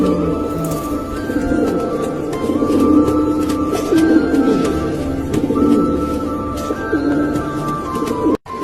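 Pigeons coo in repeated soft, throaty phrases that overlap one another, close and fairly loud, with several birds calling at once and no talking.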